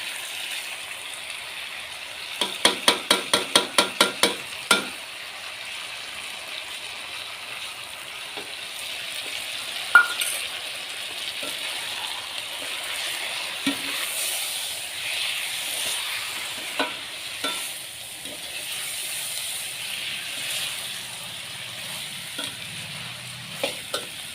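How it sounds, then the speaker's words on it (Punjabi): Ghee tempering with red chillies and turmeric sizzling in a pan, a steady close frying hiss with light crackles, opening with a quick run of sharp clicks and scattered taps of a utensil. "ਆਪਾਂ ਨੇ ਇੱਧਰ ਘਿਓ ਗਰਮ ਕਰਕੇ ਇਹਦੇ ਵਿੱਚ ਮਿਰਚਾਂ ਨਾਲ ਹਲਦੀ ਪਾ ਲਈ ਪਾ ਦਵਾਂਗੇ ਇਹਦੇ ਵਿੱਚ"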